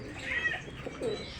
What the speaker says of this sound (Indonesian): Ini namanya burung merpati apa ini?